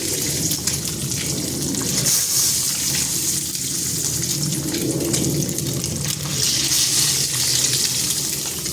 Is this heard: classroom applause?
no